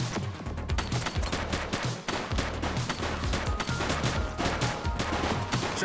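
Sustained gunfire in The Precinct, a police video game, with rapid overlapping shots and machine-gun bursts, loud and continuous with no talking.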